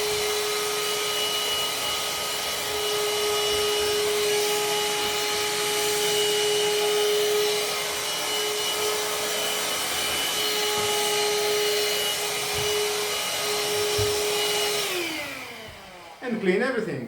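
Parkside 20V cordless handheld vacuum cleaner fitted with a narrow crevice nozzle, running with a steady whine and airflow rush for about fifteen seconds before switching off and winding down.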